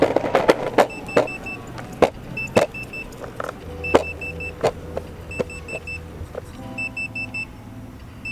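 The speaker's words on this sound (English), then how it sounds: "That is the beep of a dead board." A Lou Board 3.0 compact electric skateboard with a dead battery sounds a series of short electronic beeps, repeated evenly amid sharp clacks and knocks close by, with no talking.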